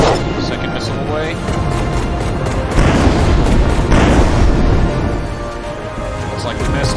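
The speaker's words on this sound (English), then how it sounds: "Alright, and missile away. Second missile away." Missiles launch one after another from a spacecraft in the space combat game Infinity: Battlescape, each a loud whooshing boom swelling over a rumbling background, with someone talking throughout.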